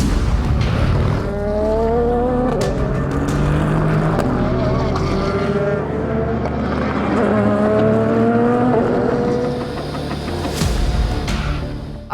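Race cars at the 4 Hours of Le Castellet, a European Le Mans Series endurance event. Loud engines roar continuously, their pitch climbing in two clear sweeps as cars accelerate past.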